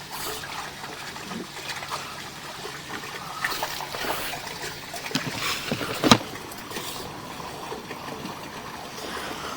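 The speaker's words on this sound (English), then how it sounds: "I do have water running in a sinkhole next to the riser pipe here" Water running and trickling into a sinkhole beside a drain riser pipe, a steady faint wash with brief splashy bursts, heard alone with no talking.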